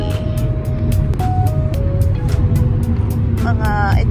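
Steady road rumble and engine drone of a car cruising along an Australian highway, heard from inside the vehicle, loud and continuous; a voice speaks over the noise.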